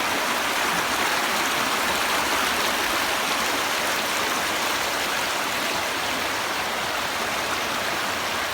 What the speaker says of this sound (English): you can actually hear that as the water is churning through these small little cascades here